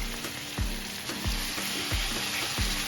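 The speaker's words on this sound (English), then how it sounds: "Look at that sizzle. That sizzle is always good." Steady, loud sizzling of chicken frying in a hot pan, with a few soft low thumps at regular intervals and no talking.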